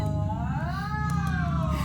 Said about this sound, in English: Oh, kittens!